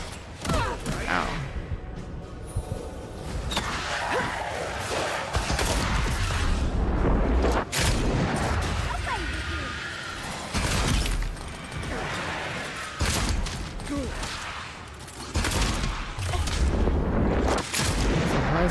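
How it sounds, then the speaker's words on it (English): Repeated heavy booming shots from a high stun pistol in Avowed, several loud blasts spaced irregularly across a noisy fight with whooshes and clanks between them. "It's a high stun pistol"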